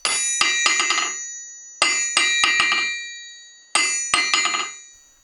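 A steel hammer dropped onto a good anvil in a low-budget smithy rings out in three bright, metallic clusters, each a quick series of bouncing strikes that decay with a lingering ring, loud and close with no talking.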